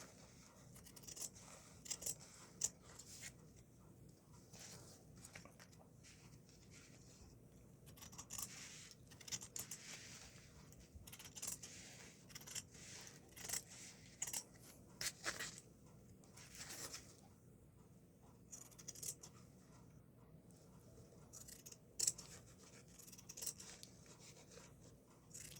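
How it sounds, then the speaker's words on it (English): Paper edges being trimmed for a botanical journal, faint intermittent snips and papery scratches in short bursts over a quiet background. "So now I'm going to trim the edges here a little bit."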